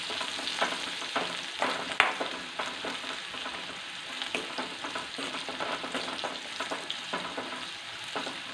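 Sliced bitter gourd with salt sautés in a pan, a low continuous sizzle broken by frequent scraping and stirring strokes that land in an irregular rhythm, close and fairly quiet with no talk.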